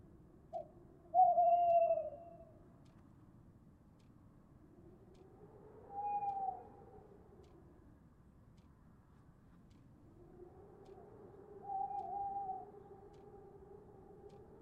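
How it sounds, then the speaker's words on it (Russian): An owl in the video game Frosty Nights hoots in three separate drawn-out calls spaced several seconds apart, clear against a faint low hum. "А, сова."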